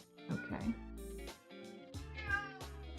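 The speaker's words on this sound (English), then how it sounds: "Oh, Chaos Cat, I will help feed you now." A hungry cat meows and complains to be fed, several drawn-out meows close by, mixed with background sound.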